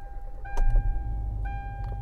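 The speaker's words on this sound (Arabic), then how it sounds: "فاول حاجه كده ندور مع حضراتكم العربيه." A 2023 Hyundai Elantra HD starts up with a brief electronic chime, a low engine rumble and a second chime, all heard up close inside the cabin.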